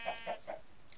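Three short, soft clucks from a chicken in Minecraft in quick succession, faint and close, followed by quiet.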